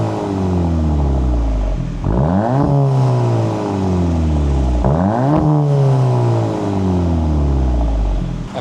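A VW MK8 GTI exhaust with stock catback and aftermarket downpipe, loud and close, repeatedly revving up through the gears with falling pitch between shifts and a steady drone.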